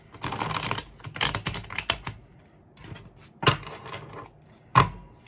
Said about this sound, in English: I shuffle 3 more times.